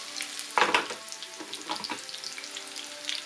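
Mustard seeds and chopped shallots splutter and crackle in hot oil while a pineapple pachadi is being made, a close, steady sizzle with sharp pops and bursts and no talking.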